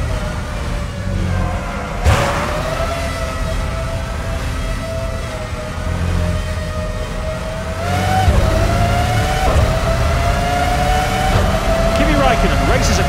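Formula One race cars howl past the finish line in the PS2 game Formula One 05, a loud, steady high-revving engine whine with pitch shifts as cars pass, under a commentator's voice.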